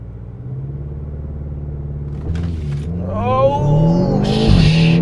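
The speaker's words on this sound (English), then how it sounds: "I'm about to brake torque and see what it's like." BMW X6 M SUV doing a brake-torque launch from a red light, the engine note climbing in pitch as it revs and surges forward, loud and close inside the cabin, no voices.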